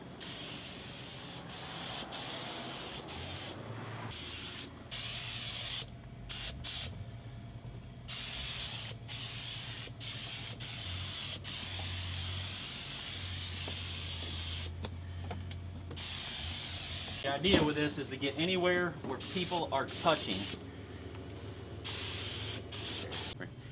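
A spray gun sprays disinfectant in long hissing bursts broken by short pauses, close and steady, during decontamination, while someone talks briefly partway through.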